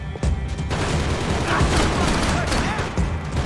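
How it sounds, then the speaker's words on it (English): Dense, loud bursts of gunfire in the video game Max Payne 3 crackle continuously, with rapid overlapping shots and heavy booms filling the whole stretch. "Gunfire over Hoboken."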